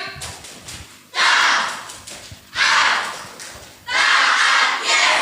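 A group performs the rhythmic 'tepuk taat' clap in three loud bursts of clapping, separated by short gaps with faint voices between them.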